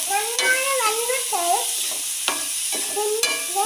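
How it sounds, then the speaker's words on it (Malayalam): Snake beans mixed with salt are stirred in a pan, with scraping strokes and a soft sizzle, while a wavering tonal background sound runs alongside. "നല്ലപോലെ നമുക്ക് ഇളക്കി യോജിപ്പിച്ച് കൊടുക്കാം"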